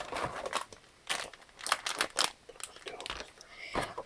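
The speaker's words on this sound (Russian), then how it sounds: "давайте пока ее отложим в сторону и откроем пакетик." Crinkling plastic packet being opened for a My Little Pony toy unboxing, with irregular close, faint rustles and crackles.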